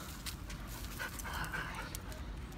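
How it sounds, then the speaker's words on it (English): Several dogs close by pant softly in quick, breathy rhythm, with a faint whimper-like tone, over a brief outdoor moment with no talking. "Oh, there's a bunch of dogs right here."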